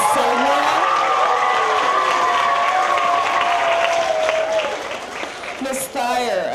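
Sustained applause from the audience at a Westwood Charter school culmination ceremony, a dense, even wash of clapping with some cheering voices, easing toward the end as a speaker resumes.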